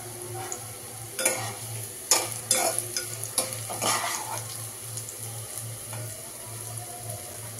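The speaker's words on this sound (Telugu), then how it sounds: "కాకరకాయ ఇలా ఫ్రై కావాలండి. కాకరకాయ ఫ్రై అయింది." Bitter gourd pieces frying in oil in a pan, with a steady sizzle and a few sharp scraping stir strokes clustered early on, set against a low constant hum, with no voices.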